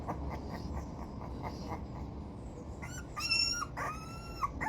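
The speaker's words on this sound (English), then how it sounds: "He's only crying because he's in the air." A puppy held up in the air cries, with faint whimpers at first and then a few louder, high-pitched whining yelps near the end, heard close over quiet background noise.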